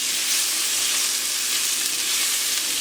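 Wild Alaskan pollock, green beans and tomatoes are stirred in sizzling butter in a pan: a loud, dense, continuous frying hiss close up, with no talking.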